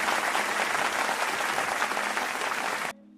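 A crowd in a Jujutsu Kaisen anime film scene breaks into sustained, loud applause as the group departs, the dense clapping holding steady for nearly three seconds before cutting off abruptly to near silence.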